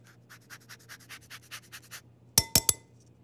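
Orange zest grated onto butter, a steady series of about ten soft rasping strokes close up, followed by three sharp clinks of metal on glass.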